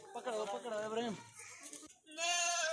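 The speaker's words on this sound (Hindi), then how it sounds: "नंबर 1 पे ये बकरा जा रहा है" A goat bleats twice, close and clear, with wavering cries while it is loaded onto a loader truck at a livestock market.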